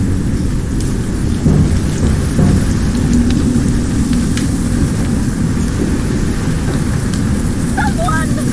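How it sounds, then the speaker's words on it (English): Heavy rain pours in a thunderstorm, a dense steady hiss with low rumbles underneath and a few faint scattered knocks and tones in the background. "got caught in the storm"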